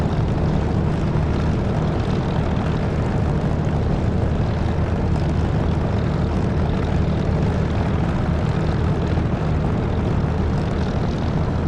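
Spitfire piston engine droning in a DCS flight simulator, a loud, steady, unbroken propeller roar that holds constant throughout with no voices.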